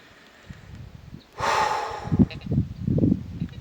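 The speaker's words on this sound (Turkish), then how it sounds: "Burada yapacağımız tek olay burada bir nefes alıp vereceğiz." A person draws one loud breath in and breathes out, close up, followed by several soft puffs and rustles, with no talk.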